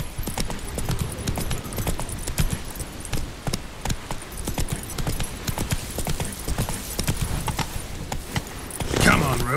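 Horse hooves gallop in The Witcher 3, a fast and dense clip-clop rhythm that continues throughout at close range, with a slight rise in noise near the end.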